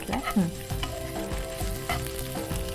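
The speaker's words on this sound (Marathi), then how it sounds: "हे छान आपण परतून घ्यायचं आहे" Hot and sauce idli being sautéed in a pan, a loud continuous sizzle under repeated scraping and knocking of a spatula against the pan, close and busy throughout.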